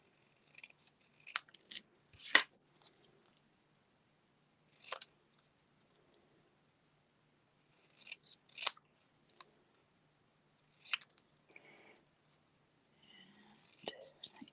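Scissors snipping through paper during a craft project, a series of short crisp cuts in scattered clusters, close and quiet, with soft whispery talk in between.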